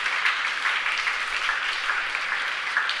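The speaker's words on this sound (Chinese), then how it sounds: "让我们拍手欢迎你" A church congregation at a Mother's Day thanksgiving service claps together to welcome a visiting family, a dense, steady burst of applause filling the hall with no voices over it.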